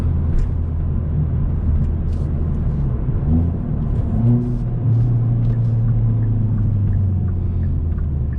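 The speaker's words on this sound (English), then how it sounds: "the exhaust valves open up" Facelifted 2021 Hyundai Veloster N in N mode with exhaust valves open, its engine droning steadily from inside the cabin at night, low rumble rising and settling as the car is driven, with no talking.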